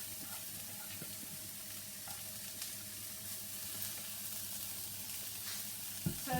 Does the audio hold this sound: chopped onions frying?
yes